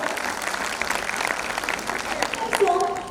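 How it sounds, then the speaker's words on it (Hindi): Audience applause at a school annual function, a steady wash of many hands clapping that runs throughout, with voices and a brief tonal sound rising near the end. "तो इनके लिए जोरदार तालियां हो जाए"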